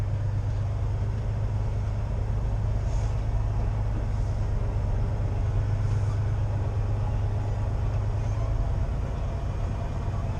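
A truck pulling a pup trailer rolls along with a steady, loud low engine drone and road rumble that holds constant throughout, with faint rattles on top.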